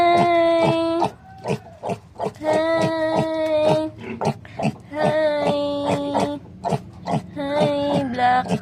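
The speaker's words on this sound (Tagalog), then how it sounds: "Black pig." A two-month-old black pig grunts and oinks in repeated bursts close by, with short pauses between calls and a person's voice briefly in between.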